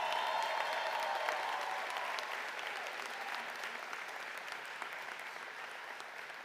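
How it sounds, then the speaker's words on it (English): Sustained applause from a large audience honoring students at a university winter commencement ceremony, steady dense clapping that fades slightly toward the end, with no speech over it. "Let's give them a rousing round of applause."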